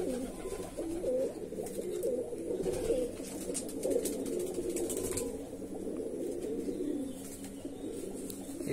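Andhra Madrasi pigeons cooing, a continuous layered murmur of soft throaty coos from several birds nearby, with faint rustling and occasional higher chirps over it.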